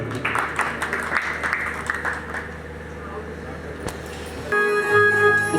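An audience claps at a devotional mehfil program at Sheikh Daulat Jhiri Sharif near Jagraon, Ludhiana, with scattered, fairly close hand-claps over music and voices for the first few seconds before a steady tone takes over.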